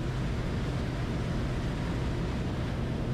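An Extra X99 Fast yacht cruises at 16 knots with its engines at 1,900 RPM, giving a steady broadband rumble mixed with rushing water and wind, even and unbroken throughout.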